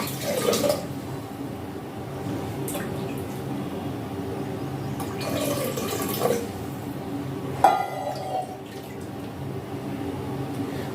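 Water is poured into a pressure cooker holding broken rice, with a few splashing, gurgling bursts and some clinks of the pot, heard close up in a quiet kitchen without talking.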